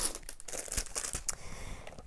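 Crisp crinkling of tissue paper, close up, with irregular rustles and crackles continuing throughout.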